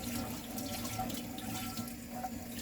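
Water runs steadily from a sink tap during washing in a home kitchen, a close continuous splashing rush with no talking.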